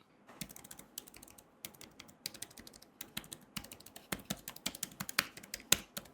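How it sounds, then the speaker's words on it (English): Clicks from a wireless computer keyboard being typed on, a steady run of sharp, close taps with uneven rhythm, heard alone at a quiet level. "Just listen to this small clip, you'll get an idea on the keyboard click sound."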